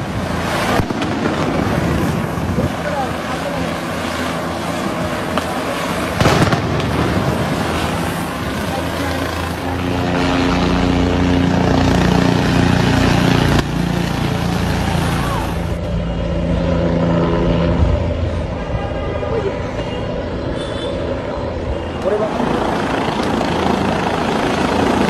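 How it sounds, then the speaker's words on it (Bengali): Several helicopters take off, with a loud, continuous rotor roar and engine whine filling the air, swelling and shifting as the aircraft rise, and sharp bangs breaking through at times. "কোনো কোনো হেলিকপ্টার উঠছে"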